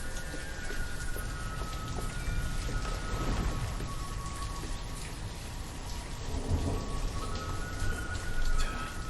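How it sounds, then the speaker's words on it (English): Steady rain falls with deep thunder rumbling in the Banished city-building game, a continuous dense hiss with low swells and no talking. "I guess it's raining and it's spring"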